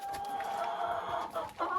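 Hens kept outdoors in a garden run cluck close by, one sustained drawn-out call with a few broken clucks at the end, no people talking.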